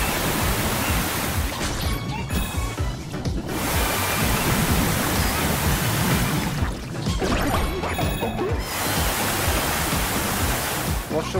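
Water gushing to wash away oil in the video game Astro Bot, a loud continuous broadband rush that surges in waves with brief dips, filling the whole scene.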